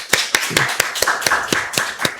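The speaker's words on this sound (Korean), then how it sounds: "우리 박수로 환영하겠습니다." A church congregation at a worship service claps to welcome the church elders: a steady run of sharp, evenly spaced claps, close and fairly loud, with no talking.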